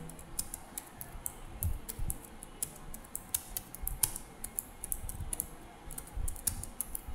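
Quiet, steady clatter of keys on a computer keyboard while HTML paragraph text is entered, irregular rapid clicks at close range with no talking.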